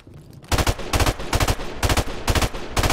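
Rapid automatic gunfire in a search-and-destroy match of an online shooter video game, loud close bursts of fast shots repeating steadily for several seconds.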